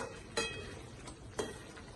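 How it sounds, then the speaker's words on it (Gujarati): Greens and whole small onions simmer with peanut powder in a pan, giving a faint, steady sizzle while a spoon scrapes and taps the pan twice. "થોડી ધીમે ધીમે હલાવતા રહેવાનું છે જેથી કરીને નીચે ચોંટે નહીં"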